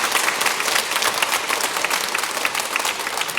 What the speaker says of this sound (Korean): 박수나 한번 해요.